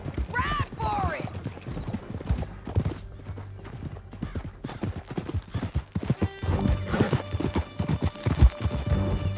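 Horses gallop in Red Dead Redemption 2, hoofbeats clip-clopping in a fast, loud, continuous rhythm over rough ground, with a whinny early on and scattered game effects mixed in.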